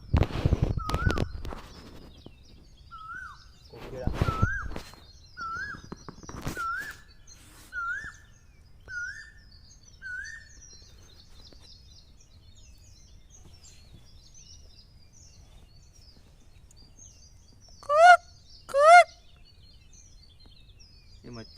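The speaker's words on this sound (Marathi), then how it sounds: "आवाज पण बघा ना कसा ते पक्ष्यांचा" Birds call near a creek, a series of short clear whistled notes repeating at a steady pace, then two louder calls later, with voices and rustling early on.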